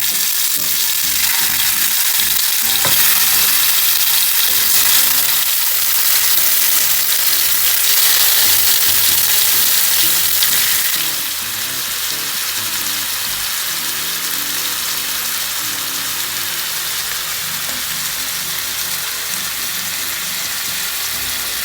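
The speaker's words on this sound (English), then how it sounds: "Heat the frying pan, add oil. Here it goes." Loud, continuous sizzling of chicken frying in hot oil in a pan, a dense crackling hiss that eases slightly after a while.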